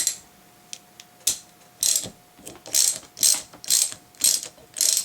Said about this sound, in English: Secure the top end with the wrench. Get in here with your socket.